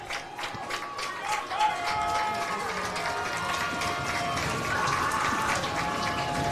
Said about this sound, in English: Comes the noise from the